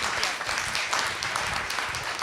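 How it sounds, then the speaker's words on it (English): A conference audience applauds the panelists after a policy discussion on women in leadership, producing a dense, steady patter of many hands clapping at moderate distance. "Thank you all, panelists, and a round of applause, please"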